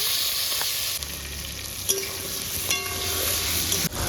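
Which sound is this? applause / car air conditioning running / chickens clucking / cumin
cumin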